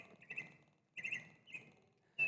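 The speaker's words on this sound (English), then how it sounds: "on the green color, it produces a chirping sound" A children's color-sensor toy emits short electronic chirps when shown green, several bright tweeting bursts in quick succession separated by brief pauses, fairly quiet and without talk.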